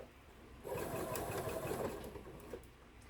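Sewing machine stitching two pieces of fabric together under a quarter-inch foot, a quiet, close mechanical whir that runs in one short burst of about a second and a half.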